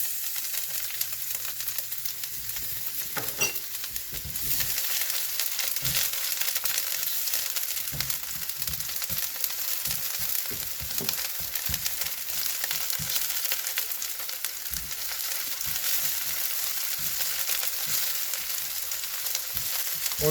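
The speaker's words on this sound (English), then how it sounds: "the first thing we're going to add is our shallots" Shallots frying in oil in a pan over low heat give a steady close sizzle with a few soft stirring clicks and knocks scattered throughout.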